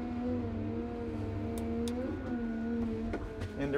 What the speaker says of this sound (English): as I approach the pile, I can give max RPM for max speed while I'm digging.